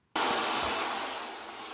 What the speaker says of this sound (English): I diffuse like this for, I don't know, honestly as long as I feel like it